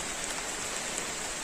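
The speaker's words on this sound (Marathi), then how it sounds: "पाऊस चालू झाला आहे" Rain falling outdoors at a village temple site in Dapoli-Khed, a steady dense hiss of drops heard continuously and evenly, with no talk.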